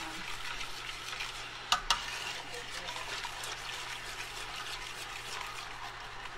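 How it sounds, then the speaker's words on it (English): Boiling vinegar for squash relish being stirred in a pot, a steady soft sizzle and bubbling hiss with two brief sharp clinks of the spoon against the pot partway through. "Boiling vinegar. This is not water."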